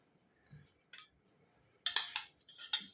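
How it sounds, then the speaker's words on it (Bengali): Curries are served at a home meal as dishes and cutlery clink: a few faint, scattered metallic clinks and scrapes, close by, with quiet pauses between them. "তো তরকারিগুলো আগে দিয়ে দিই"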